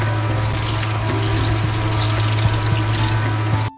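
Running tap water pours steadily while scored white fish is washed under it for a Kerala-style Malabar fish curry, a continuous close hiss and splash with no break until a brief clatter at the end.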